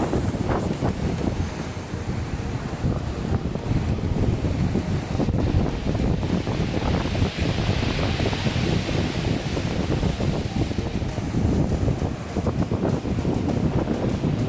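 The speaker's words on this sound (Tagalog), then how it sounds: "Grabe, ang lakas ng alon dito" Powerful ocean waves surge and crash continuously near Estrella Falls in Balabac, Palawan, mixed with heavy wind buffeting the microphone, a dense unbroken roar with no voices.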